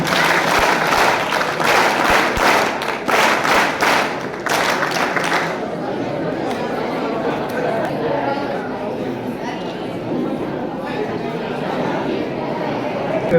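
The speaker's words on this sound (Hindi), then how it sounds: "दर्शक दीघा में बैठे सभी से आकर करूंगा कि इनके लिए जोरदार ताली बजाएं।" Audience applause at a school science exhibition and results ceremony, with loud bursts of clapping at first that thin into crowd chatter and shuffling in a large hall.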